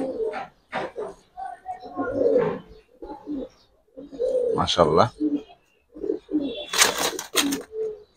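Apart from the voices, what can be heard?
Giribaz pigeons cooing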